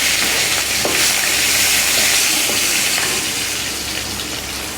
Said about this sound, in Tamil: பொரியட்டும் கடுகு சீரகம் பொரிஞ்சதும் கொஞ்சமாக கருவேப்பிலை சேர்த்துக்கலாம்